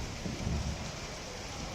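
Heavy monsoon rain in Sahibganj district, Jharkhand, falls as a dense, steady roar of downpour with a low rumble underneath, continuous and close throughout.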